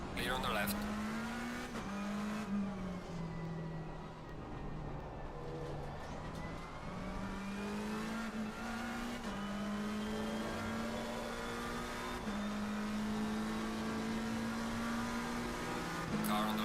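A race car in an online sim racing session at Kyalami or Watkins Glen holds a loud, continuous engine drone that rises and falls with gear changes. Tyres squeal faintly underneath, and a driver talks over it throughout.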